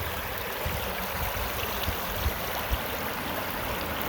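Low, weak water trickles and washes steadily through a gold prospecting sluice run in Indiana, set at a poor angle. A continuous close hiss carries a few soft splashes and no voices.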